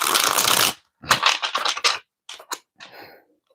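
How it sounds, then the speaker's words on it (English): A deck of tarot reading cards being shuffled close up: a long riffling burst, then several quick papery riffles and softer flicks with short pauses between them, with no talk over them. "let me get another shuffle"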